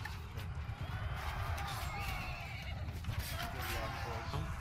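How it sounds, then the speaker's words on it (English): A horse whinnies loudly in Mount and Blade 2: Bannerlord over a busy, noisy background, with hoofbeats and game ambience underneath during a large multiplayer battle event. "Is that Leon's horse"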